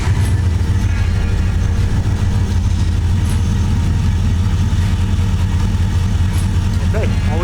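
An LS V8 swapped into a Jeep Comanche pickup idles steadily at close range, a loud, continuous low rumble throughout, with no voices.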